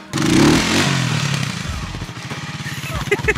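A motorcycle pops a wheelie, the engine surging in a loud rev and then settling into a steady chugging idle rhythm, close by.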